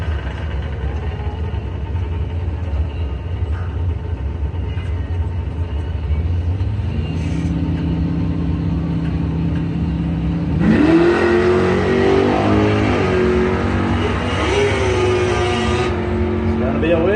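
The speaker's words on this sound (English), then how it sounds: "84 Monte Carlo from Beulah. 907. Taking on Dan Snyder, 64 Impala from Harrison" Doorslammer drag cars, an '84 Monte Carlo and a '64 Impala, rumble loudly at idle on the strip, then the engines rev hard with rising, roaring tones.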